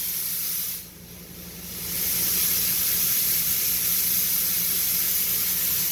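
Conventional spray gun atomizing latex paint at about 35 psi with the trigger pulled fully, a steady loud hiss running throughout apart from a brief dip near the start.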